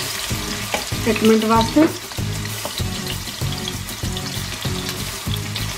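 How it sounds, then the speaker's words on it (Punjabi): Chopped garlic frying in oil in a pan for a restaurant-style veg Manchurian, a steady close sizzle with stirring scrapes, while someone briefly speaks over it. "ਹਾਂਜੀ ਆਪਾਂ ਹੁਣ ਪਹਿਲਾਂ ਸਭ ਤੋਂ ਕੱਟਿਆ ਹੋਇਆ ਗਾਰਲਿਕ ਪਾਵਾਂਗੇ ਥੋੜਾ ਇਹਨੂੰ ਭੁੰਨਾਂਗੇ"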